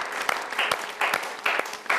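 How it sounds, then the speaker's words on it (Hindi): An audience at a televised poetry show claps in short, uneven bursts, a few rounds of applause from a small gathering with slight pauses between them. "आइए आपके लिए एक बार जोरदार तालियां बजाएं।"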